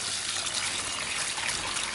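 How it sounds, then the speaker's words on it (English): Water draining through the drainage holes of a bonsai pot as soil is washed during repotting of a crape myrtle, a steady close hiss of trickling water with no pauses. "So the drainage should be clear, meaning the water going through the drainage hole will be, instead of brown, it will be clearer."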